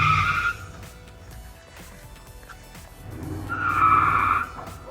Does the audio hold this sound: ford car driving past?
yes